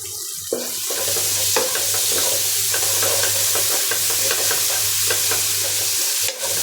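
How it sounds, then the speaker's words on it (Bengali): Dried fish fries with bottle gourd and eggplant in a pan, giving a continuous close sizzle broken by repeated scraping and clattering stirs, with a low hum beneath and no voices. "ভাজা হোক"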